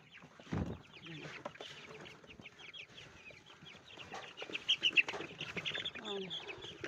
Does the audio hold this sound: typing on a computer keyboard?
no